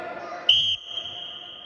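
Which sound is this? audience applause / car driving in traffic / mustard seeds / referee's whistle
referee's whistle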